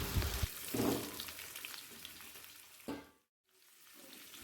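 Potatoes frying in oil with salt and turmeric, a soft crackling sizzle with a few stirring scrapes and a brief moment of near silence before the hiss resumes.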